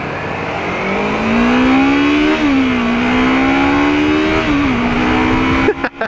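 A Yamaha R3 motorcycle engine held at full throttle, a loud, steady high-pitched whine that climbs, dips slightly at a shift, then climbs again, close to the microphone before buffeting at the end.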